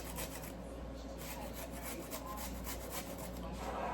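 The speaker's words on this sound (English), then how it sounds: "Continue to grate it in." Fresh ginger is rubbed against a microplane in a continuous scratchy rasp with quick repeated strokes, faint and close in a quiet kitchen.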